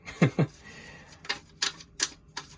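Tarot cards shuffled and drawn for a Cancer reading: a few crisp, close card snaps and flicks, two quick ones first, then three more spaced apart.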